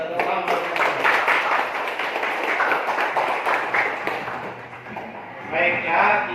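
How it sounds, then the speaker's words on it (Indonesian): Seated participants at an academic supervision coaching session clap for themselves as an exercise wraps up, a burst of scattered hand claps mixed with voices and background chatter. "kasih tepuk tangan untuk kita"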